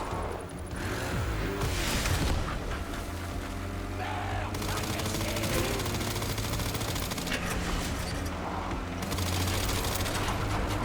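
Rapid gunfire from the video game Resident Evil Requiem rattles in dense, continuous bursts mixed with game effects and music, loud and steady throughout with no clear pauses.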